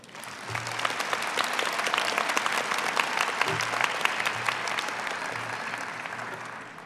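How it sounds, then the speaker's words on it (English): An audience at a nursing pinning ceremony applauds scholarship recipients with dense, sustained clapping that swells and then gradually tapers off. "one more round of applause for them"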